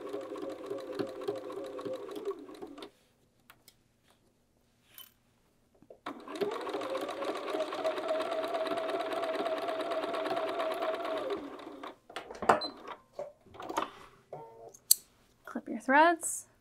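A sewing machine stitches handles and bias binding on a bag in two steady, close runs of whirring, with a pause between them. Soft clicks and snips follow, probably scissors clipping threads.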